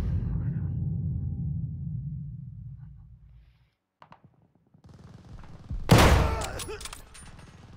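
Heavy gunfire from a powerful gun in Call of Duty Vanguard, a dense rumbling stretch that fades to near silence, then a few sparse shots and a sharp loud blast near the end, with a voice talking over parts.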